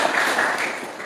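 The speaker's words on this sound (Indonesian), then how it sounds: "Dan yang setuju tepuk tangan buat Tuhan Yesus Kristus" A church congregation claps together in a dense, even burst of applause that fills a large room and holds steady, then eases slightly toward the end, with no voices over it.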